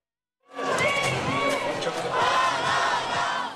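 A large crowd at a Paralympic cross-country skiing venue cheers loudly and continuously for two North Korean athletes, a sustained roar of shouting voices that starts abruptly and holds steady.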